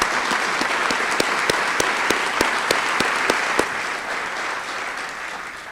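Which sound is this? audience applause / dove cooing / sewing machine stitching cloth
audience applause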